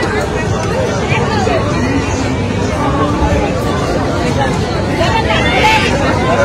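Crowd hubbub at the Old Digha market and sea beach, a dense, continuous babble of many voices at a steady level, with a person talking nearby.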